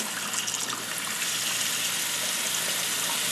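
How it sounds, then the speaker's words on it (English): Water flows in a steady stream from a sink faucet on an off-grid emergency water system while a pump builds pressure, making a constant, close rushing hiss with no pauses. "it's as the pump makes the pressure, then it has more water coming out of your faucet."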